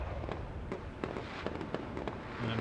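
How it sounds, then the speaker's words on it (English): Fireworks burst over and over in a video game, a dense, crackling run of sharp pops and bangs that carry on without a break at moderate loudness, with no talk. "More fireworks going bananas."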